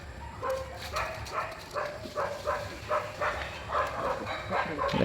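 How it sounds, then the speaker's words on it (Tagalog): Several dogs bark repeatedly in a steady series of yips and woofs, moderately loud over a constant background hum. "Ayun oh, may mga aso."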